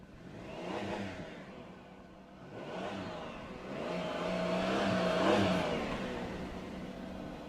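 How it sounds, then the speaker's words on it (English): A car engine revs repeatedly, rising and falling in several swells, with the longest and loudest rev near the end, heard close and without talking. "All right, Mitchell, rev your engine."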